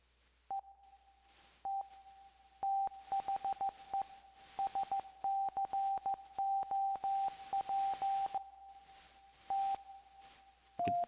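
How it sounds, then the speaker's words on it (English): An M8 Tracker playing the Mutable Instruments Braids question-mark oscillator gives off Morse-code-like beeps: short and long bursts of a single tone, clipped and rhythmic, clean and fairly quiet, with brief noisy clicks between them. "it's just called question marks. It was in Mutable Instruments braids"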